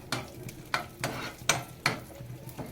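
Dry fruits roast in a pan over medium heat while a spoon stirs them in regular scraping strokes, about six distinct sweeps over a soft sizzle, close and clear with no voices.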